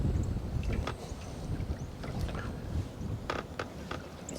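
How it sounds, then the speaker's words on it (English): Steady wind rushes across open water around a small fishing boat, a continuous low roar with occasional buffeting gusts against the microphone and no talking. "Wind's picking up."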